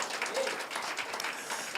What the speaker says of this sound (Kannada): ಜೋರಾಗಿ ಚಪ್ಪಾಳೆ ತಟ್ಟ ಅವರಿಗೆ ಸ್ತೋತ್ರ ಸಲ್ಲಿಸಿ